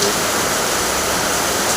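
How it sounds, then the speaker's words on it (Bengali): Heavy rain falling in a steady, dense, loud roar, a continuous wash of noise with no breaks and no voices. "দেখো তোমাদের এদিকেও কি এরকম বৃষ্টি হচ্ছে?"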